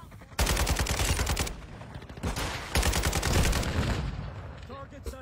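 Video game gunfire in a mausoleum setting: dense bursts of rapid shots in two long volleys, loud and close, with brief lulls between and a faint voice near the end.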